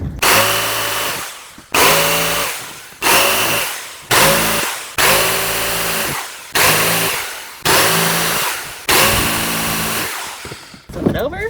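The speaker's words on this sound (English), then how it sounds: "grab your jigsaw and finish the cuts" A jigsaw cuts through a built-in bench panel in about eight loud, close bursts, each a buzzing whine that rises and then sags under load, separated by short gaps, with a brief clatter at the end.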